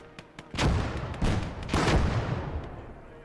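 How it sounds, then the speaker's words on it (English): Mortar fire in a war video game set during a Finnish conquest: three heavy booming blasts about half a second apart, each with a long rumbling decay, preceded by faint distant thuds. "They're mortaring me."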